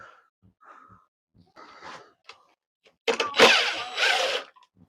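A power tool unbolts the license plate bolts on a 1970s Pontiac Trans Am, giving a loud close whirring burst after a few faint clicks and rattles, with a second shorter whir following.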